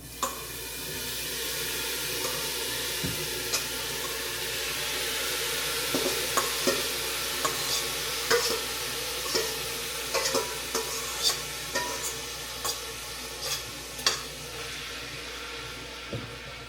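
Ground meat and chili ingredients are stirred in a large pot, with a soft sizzle under repeated scraping and clinking strokes from a utensil. The sound is close and fairly quiet, with no one speaking.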